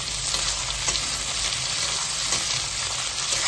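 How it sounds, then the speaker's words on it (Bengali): Sliced onions with a bay leaf fry loudly in a pan for lemon chicken, producing a steady, close, dense hiss of sizzling oil that runs unbroken throughout without any voices. "পেঁয়াজগুলোকে ভালো করে এবার আমরা একটু ভাজবো।"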